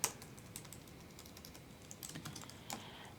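Code is typed on a computer keyboard as a quiet, irregular patter of soft key clicks, with a few louder taps and brief pauses, and no speech.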